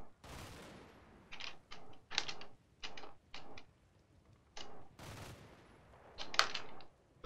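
Marksman rifle shots in the WWII tactics game Combat Mission: Battle for Normandy, a string of sharp separate cracks with short gaps, some louder and nearer, others more muffled, with no speech.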